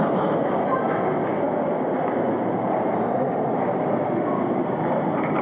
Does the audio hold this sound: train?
yes